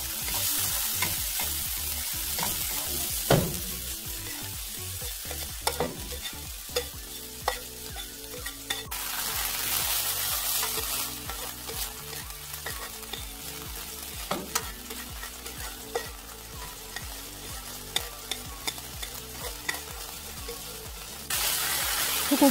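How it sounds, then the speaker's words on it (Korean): Shiitake and wood ear mushrooms stir-frying over medium then high heat, a constant sizzle punctuated by frequent sharp spatula clacks and scrapes against the pan, close and busy throughout. "표고버섯과 목이버섯은 중불에서 볶아 강불에서 수분을 날리며 빠르게 볶아냅니다."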